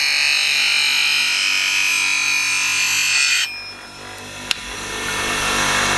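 A woodturning scraper is honed and sharpened. A steady, close, high grinding whine runs for a few seconds, then cuts out to near quiet, followed by a single sharp tick and a returning low hum.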